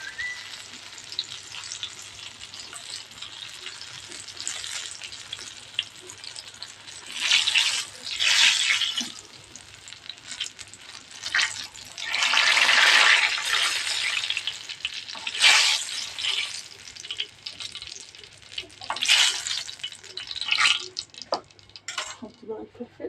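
Eggplant slices fry in hot oil in a crowded pan, giving a steady close sizzle with louder bursts of crackling as pieces are stirred, and occasional clinks of utensils against the pan.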